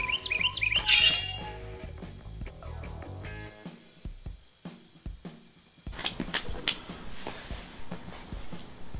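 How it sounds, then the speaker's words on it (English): Close by, a bird chirps in quick high tweets over outdoor background noise, with scattered rustling and footsteps following as the calls fade. "A bird!"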